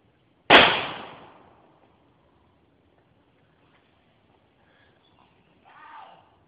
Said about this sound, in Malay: Memanglah tembak bunyi bising.